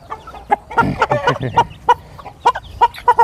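Fighting-breed chickens of the Peruvadai line cluck in a quick series of short, sharp, repeated calls with a brief rougher burst early on, close and alone without speech.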